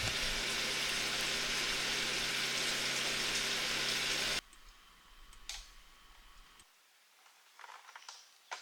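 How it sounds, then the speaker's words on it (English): Small pump drawing river water on an off-grid Alaska setup, a loud steady mechanical whir that stops abruptly partway through, leaving faint ticks and clicks in near quiet. "this pump really does not deliver a lot of pressure, but it's enough to wash the boat out"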